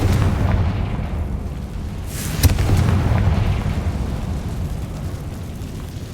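A Confringo spell explosion in the Hogwarts Legacy video game, a heavy booming blast with a sharp crack at its peak, rumbling loudly amid continuous low game noise and fading gradually.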